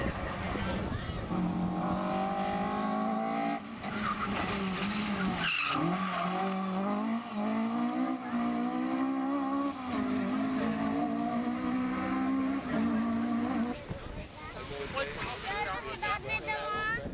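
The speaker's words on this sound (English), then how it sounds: "Neil and the Starlet were on a charge, and not even the limping Corolla of Corbin could deter him." Toyota Starlet and Corolla rally cars race hard, engines revving and rising in pitch continuously near the microphone, with wind buffeting and a brief surge of tire and gravel noise before the engine note drops away.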